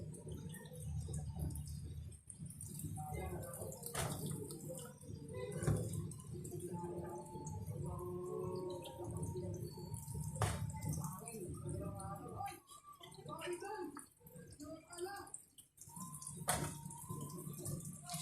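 Chili peppers being washed by hand in a basin of water for fish sinigang with calamansi, with soft splashing and dripping running under steady talking.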